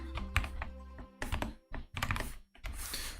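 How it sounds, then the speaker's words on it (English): Someone types hesitantly on a brand-new computer keyboard while coding, with short bursts of clacking keystrokes separated by brief pauses, close and clear with no talking. "This is literally the first time I'm actually coding with this keyboard, so I am missing a lot of keys."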